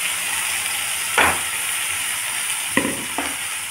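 Mixed vegetables fry in a pan for curry with a continuous loud sizzle, broken by three sharp clanks of a spoon scraping and stirring against the pan.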